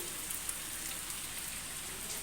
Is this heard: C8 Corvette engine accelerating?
no